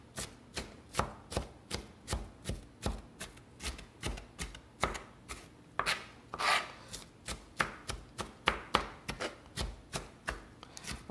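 An onion chopped by hand with a knife on a board during prep for beef ragu spaghetti, with crisp, evenly paced chops repeating steadily and close up, and a brief rubbing pause midway.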